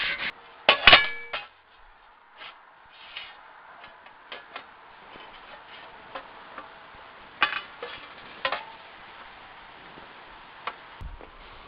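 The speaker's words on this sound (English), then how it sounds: "So I plan on hammering this edge over." Sharp metal hammer strikes on the edge of a steel guard for a 1959 Bolens tiller, shaped around a clamped form: a dense cluster of loud blows early, then scattered single taps with pauses, close and alone.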